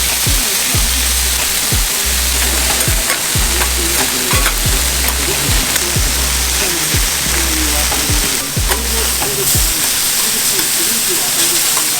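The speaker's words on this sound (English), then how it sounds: "Then they chuck the stir-fried soba noodles, which usually you make yakisoba with" Soba noodles stir-frying on a hot griddle for Hiroshima-style okonomiyaki give a loud, steady sizzle with repeated scraping spatula strokes, close and continuous throughout.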